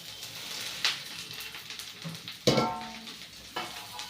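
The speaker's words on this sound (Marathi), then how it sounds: "आणि आता हा कांदा भाजणार आहे तर याच्यासाठी मी थोडस तेल टाकणार आहे कढाईमध्ये" Onion fries in a little oil in a kadhai, with a quiet sizzle under a few sharp stirring scrapes and knocks at irregular moments.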